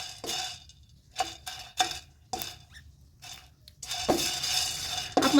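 Spice masala being stirred and roasted in a kadhai for a stuffed red chilli pickle, heard as repeated scraping strokes of a spoon against the pan with light sizzling between them, close and with no talk.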